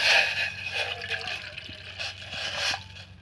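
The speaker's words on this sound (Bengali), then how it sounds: "চিনি রস বানার জন্য এটি পাতিলাটা দিলাম তুলে। এবার এটি জল দেওয়া হবে" Water poured into a cooking pot to make sugar syrup, a close gushing splash that rises at the start and then runs on unevenly with small drips and burbles, with no talking.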